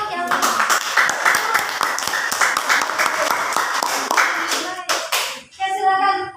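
A classroom of students claps for a presenting group, a crisp, uneven burst of many hands applauding nearby, with a voice speaking as the clapping tails off.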